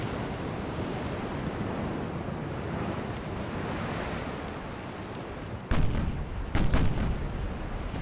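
Warship secondary guns in the Ultimate Admiral: Dreadnoughts naval video game: a constant roar of sea and wind, then two sharp, loud gun blasts about a second apart near the end.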